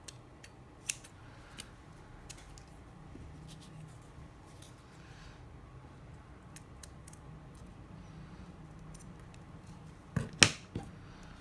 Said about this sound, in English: So now I can flip it over and I can trim off these end pieces.